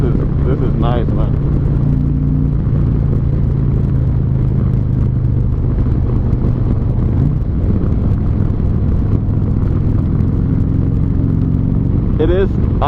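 Harley-Davidson motorcycle engine and exhaust during a ride, a steady loud low rumble with rushing wind throughout, a rider's voice breaking in briefly near the start and end.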